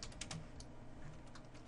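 Typing on a computer keyboard while entering code, a steady run of close, light key clicks with some louder taps, heard alone with no talking.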